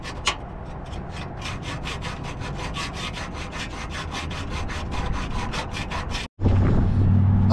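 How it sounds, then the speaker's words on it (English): A hand saw works through a car's metal exhaust pipe in quick, even back-and-forth strokes that rasp steadily for several seconds, then stop abruptly, followed by a low rumbling noise. "I really don't want to have to cut through 2 fucking pipes."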